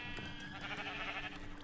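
Sheep bleat on a video game sheep farm, several short repeated calls layered over constant background music and game sounds, fairly faint throughout.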